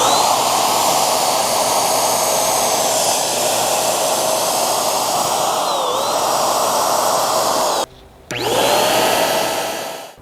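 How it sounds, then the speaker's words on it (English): Inokraft HVLP paint sprayer spraying unthinned latex paint, a steady loud airy whoosh with a high whine that holds for about eight seconds, cuts out briefly, then resumes before fading. "These HVLP sprayers are nice because they will spray latex unthinned"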